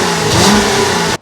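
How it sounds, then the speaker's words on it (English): A 2022 Jeep Wrangler Unlimited Rubicon revs up close at its exhaust pipe, one loud, steady surge that climbs and then falls back, cutting off abruptly at the end with no talk over it. "I see an exhaust pipe, and it sounds like this."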